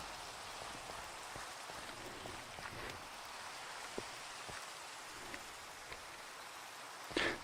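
Steady rain patters across the surface in a VR video game, a soft, even hiss of drops with a few sharper splats and a brief louder burst near the end, no voices present.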